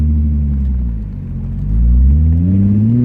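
A Nissan 350Z engine revs with a steady low rumble, dipping briefly before climbing again in pitch, loud and close throughout with no talk over it.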